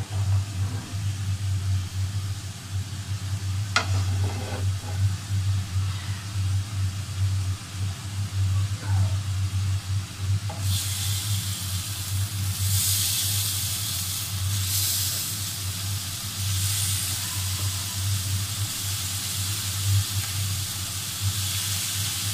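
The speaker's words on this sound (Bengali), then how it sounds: "এটা মাছটা ভেজে নেব" Hilsa fish fries in a pan in a home kitchen in Barishal, a steady loud sizzle over a constant low hum that grows brighter and hissier midway, with no talking.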